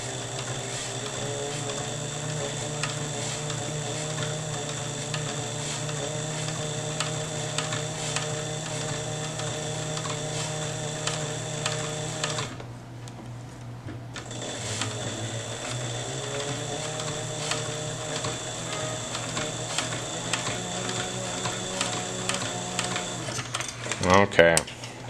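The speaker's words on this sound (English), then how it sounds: "And I'm just going to sew all the way down." Leather being stitched on a sewing machine, a steady close mechanical hum and rapid ratcheting clatter that runs throughout, pausing briefly about halfway before starting again.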